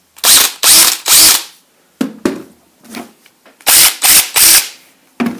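Cordless drill powered by a knockoff Vanon battery, revved in loud repeated short bursts with brief pauses, the motor whirring up and stopping close by.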